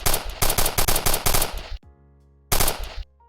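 A gun fired in the Zimension game engine, a rapid burst of about a dozen loud sharp shots, a short pause with a ringing tail, then a second quick burst of several shots.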